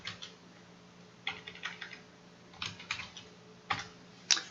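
A computer keyboard clicks close up in bursts of keystrokes with short pauses between them and a few sharper taps, over a faint hum. No one speaks.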